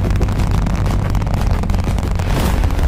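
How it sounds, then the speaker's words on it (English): A SpaceX Starship rocket lifts off on its fourth test flight, a dense, continuous low roar with crackling rumble that fills the air steadily, without voices. "We have liftoff."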